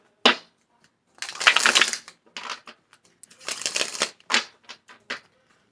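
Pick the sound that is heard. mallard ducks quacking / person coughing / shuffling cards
shuffling cards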